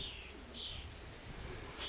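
A pigeon coos softly in low, rolling murmurs, faint and distant, with a few thin chirps overhead.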